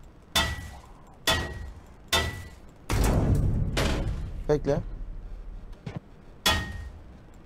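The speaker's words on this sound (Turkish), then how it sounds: "Aa, yer kırılıyor lan." In Ship Graveyard Simulator 2, a hammer breaks up a ship's floor in a series of sharp, evenly spaced impacts, each cracking loudly and then dying away, with one longer crunching break midway. Someone talks between some of the blows.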